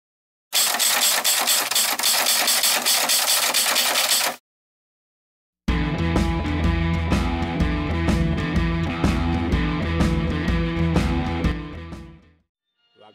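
Auto race motorcycles at the Kawaguchi track, a loud sustained buzzing engine roar for several seconds, then after a short gap a second long, dense, rising roar of several machines before fading away.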